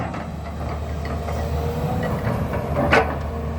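The six-cylinder diesel engine of a Volvo EC210B excavator, working on a small canal dig, idles with a steady low drone and a brief louder swell near the end; no talk is heard.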